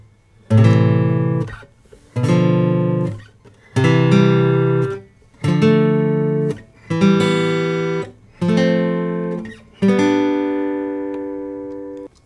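Seven acoustic guitar chords from a minor-key lesson are strummed one after another, each ringing out and fading before the next, evenly spaced and played alone.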